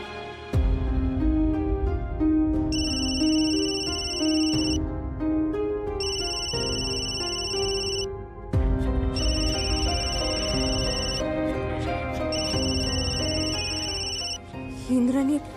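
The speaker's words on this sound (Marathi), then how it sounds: "याने असा अचानक फोन का केला?" A telephone rings repeatedly with an electronic melodic ringtone, loud and close, in regular bursts separated by short gaps.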